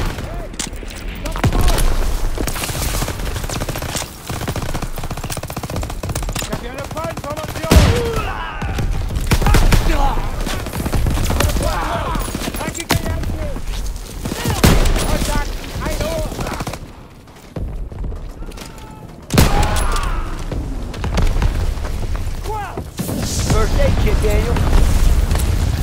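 Artillery blasts and rapid gunfire from the D-Day mission of the Call of Duty WW2 video game, a dense battle din of bursts and booms running throughout, with shouting voices over it.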